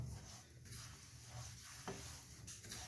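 Moong dal and semolina roast in ghee in a kadhai over low heat, giving a faint, steady sizzle with soft stirring scrapes throughout.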